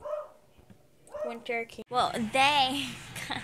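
A pet dog gives short yipping, whimpering barks at the start, then a person talks over further faint dog noises.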